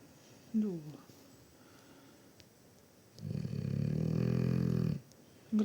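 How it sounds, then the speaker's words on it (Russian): A dog sleeping under a Christmas tree lets out a single long, soft snore in the middle, with someone speaking quietly before it and a brief sound at the end. "Так у нас Боренька храпит, да, Боря?"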